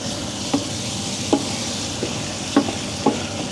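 Curry paste for a Malaysian curry is stirred and fried in a pan, a constant close sizzle broken by a few soft scraping knocks of the spoon at uneven intervals.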